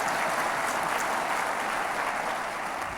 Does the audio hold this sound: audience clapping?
yes